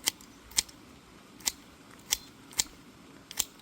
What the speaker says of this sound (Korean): 벌나무를 또 집에 와서 일일이 또 이렇게 잘게 또 잘라 주어야